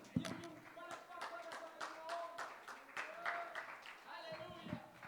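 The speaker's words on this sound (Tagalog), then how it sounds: "Palakpak para kay Jesus." A church congregation claps for Jesus with quick, scattered, fairly faint claps over several seconds, mixed with voices talking in the room.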